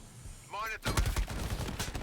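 Gunfire in the shooter video game Shatterline, a rapid loud burst of automatic shots following a brief tonal game sound.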